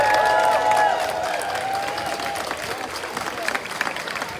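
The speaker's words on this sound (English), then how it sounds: "let's go ahead and give ourselves a round of applause just for showing up today" A crowd at a No Kings protest rally in Bloomington breaks into steady applause, dense clapping that slowly thins out, with some tonal ringing and murmuring voices underneath.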